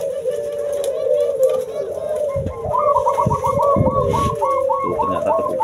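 Zebra doves (perkutut) kept in a small breeding cage coo steadily up close, while a voice talks over the middle stretch and a rapid run of calls follows near the end.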